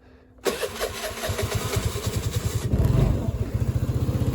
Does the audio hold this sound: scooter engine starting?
yes